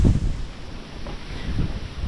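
Strong wind buffets the microphone outdoors, with low rumbling gusts that swell at the start and again near the end, no voices present.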